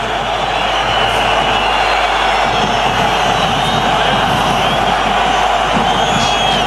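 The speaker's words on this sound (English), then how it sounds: "Listen to the crowd." A rugby stadium crowd in a Perpignan versus Clermont match reacts to a late tackle with a loud, sustained roar of jeers and shouts, a dense wall of voices that runs unbroken throughout.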